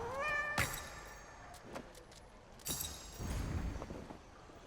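A cat meowing in the video game Hades II, a clear rising meow at the start followed by game sound effects, thumps and rustles, fairly quiet overall.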